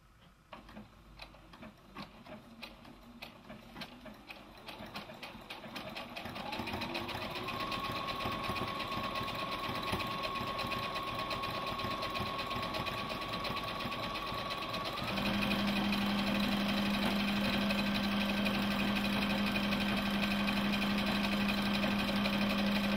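A Brother PB6800 combo machine sews a back stitch, its motor running steadily and loud, settling into a higher, even whir partway through with a constant mechanical hum, no voices.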